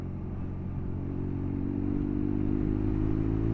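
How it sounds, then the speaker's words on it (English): A motorcycle, a BMW GS Urban or a Triumph Scrambler 1200XE, is ridden along an Exmoor road, its engine a steady, smooth drone with rushing wind that slowly grows a little louder. "It's a really smooth engine."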